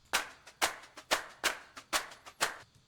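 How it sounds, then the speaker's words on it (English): A hand-clap sample placed in a beat, struck in a regular rhythm of crisp, dry claps that alternate between louder accents and softer in-between hits, close and alone. "Ooh, you know what I need? Claps."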